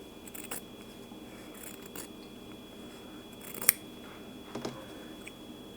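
Sewn quilt fabric pieces cut apart in the middle with scissors, a few crisp snips and soft rustles, faint and close in a quiet room.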